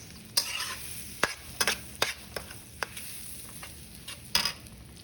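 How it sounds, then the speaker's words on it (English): Sesame seeds roast in clarified butter in a pan, with a soft sizzle underneath a series of sharp, irregular scraping clicks as the seeds are stirred. "Let's roast the sesame seeds."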